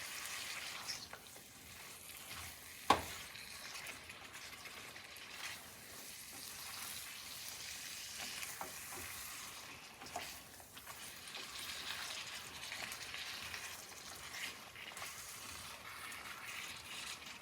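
Ginger-chilli pickle cooking in a pan on a stove, a soft, steady sizzle and frying hiss at low level with an occasional faint clink, and no talking.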